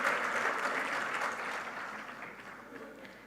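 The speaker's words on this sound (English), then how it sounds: "Please give a huge round of applause for Dr." Audience applause at a university oration ceremony, a sustained wash of clapping from a crowd that slowly tapers in strength, heard at a moderate distance with no voices over it.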